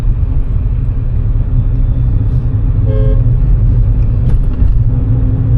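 Engine of a manual car during a driving lesson, a steady low rumble that lifts and settles around a gear change from first to second, with a brief horn-like tone partway through and no talking.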